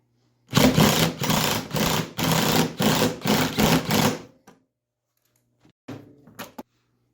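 Screws are driven into the fuel pump of a Ski-Doo 900 ACE Turbo REV snowmobile, most likely with a power tool, heard as loud, close bursts of whirring that start and stop in quick succession, then a few shorter bursts after a pause.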